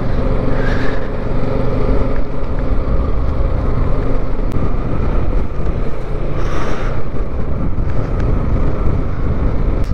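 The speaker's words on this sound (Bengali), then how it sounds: "এই কুয়াশার মধ্যে দিয়ে, এই ঠান্ডার মধ্যে দিয়ে আমরা বাইক চালাচ্ছি।" A motorbike ridden through cold fog on a mountain road in East Sikkim, its loud, steady engine drone mixed with heavy wind buffeting the microphone throughout, with no talking.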